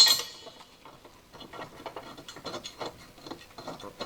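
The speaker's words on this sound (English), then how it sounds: "Tighten the center bracket mounting bolts." An extendable ratcheting wrench tightens the center bracket bolts of a Land Rover Discovery 4 rear trailer hitch, a steady run of quick, faint clicks at close range with no voices.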